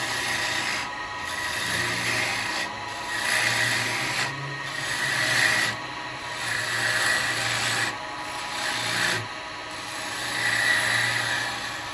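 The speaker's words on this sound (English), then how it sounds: "just doing some slicing cuts, but bevel's in contact, and all it is rotating the tool" A wood lathe spins while a turning tool takes slicing cuts on a wooden cowboy hat, a continuous rough scraping hiss that swells and fades in regular passes every second or two, without talking.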